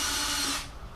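A power drill or driver whirs steadily as screws come out of the steel case of a Harbor Freight Chicago Electric MIG 170 welder, loud and close, then cuts off partway and leaves a quieter tail.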